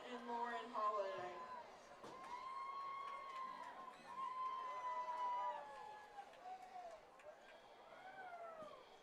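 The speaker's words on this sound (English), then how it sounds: "Good reaction from the crowd." A crowd at a homecoming high school football game reacts with scattered cheers, whoops and raised voices rising and falling throughout, heard from a distance with people talking over it.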